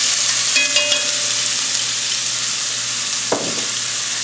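Chopped onions hitting hot canola oil and butter in a pan for Louisiana jambalaya, a steady bright sizzle with a brief stir or scrape partway through, no voices.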